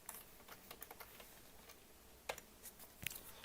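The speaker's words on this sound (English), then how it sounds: "So we type in test first." Quiet keystrokes on a computer keyboard, a sparse irregular pattern of light clicks with a couple of brief bursts, close and faint against a soft background hiss.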